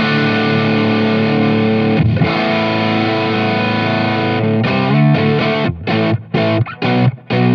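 An electric guitar run through an overdrive pedal on its sparkle setting: long, driven chords ring out at first, then give way to choppy, staccato strums with sharp cutoffs near the end, loud and close.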